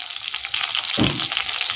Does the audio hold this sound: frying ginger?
yes